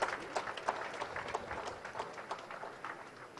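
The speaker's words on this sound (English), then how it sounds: "Let's give him a resounding round of applause." Audience applause at a Nigerian Navy fleet review in Lagos, a scattered round of clapping heard from some distance, moderately faint, with uneven claps and a busy crowd texture.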